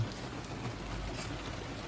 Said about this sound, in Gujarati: જોઈ શકો છો વરસાદ પડે છે